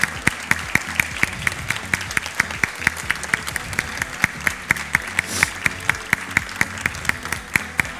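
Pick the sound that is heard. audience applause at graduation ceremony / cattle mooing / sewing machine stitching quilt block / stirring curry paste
audience applause at graduation ceremony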